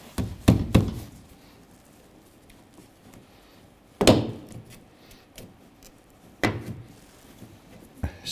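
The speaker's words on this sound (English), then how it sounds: "And remove the handle from the door." Exterior door handle being removed from a 2011-2017 Honda Odyssey door: a handful of sharp, close clunks and knocks arrive in irregular bursts with quiet gaps between them, and no one speaks.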